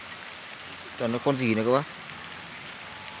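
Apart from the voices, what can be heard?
rain falling outdoors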